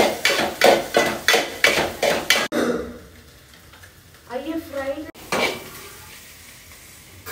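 Shredded cabbage fried with egg in a pan, opening with a run of rhythmic knocking strokes, then quieter sizzling stirs with a brief voice and another sharp clatter.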